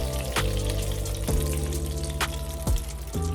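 Breaded chicken frying in hot oil, a soft steady sizzle broken by a few sharp clinks of a utensil against the pan as the pieces are lifted out, close and fairly quiet.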